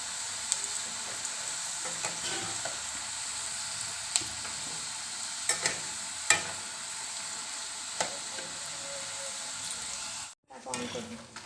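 Pieces of nimki dough fry in hot oil with a loud, steady bubbling sizzle, punctuated by occasional clicks of a spoon, until the sizzle suddenly drops away near the end.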